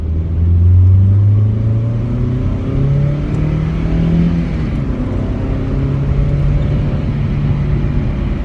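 A 2000 Toyota Celica GT accelerating on the road, its engine note climbing through the gears with a steady, loud rumble and rising whir heard from inside the car, no talking.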